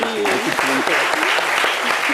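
Studio audience applause on a French-language midday talk show, a dense steady clatter of clapping lasting about two seconds with a voice talking over it.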